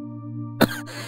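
A mother coughs once, a short harsh burst rising out of a steady low hum, in a horror radio drama scene set in a cluttered, trash-strewn room.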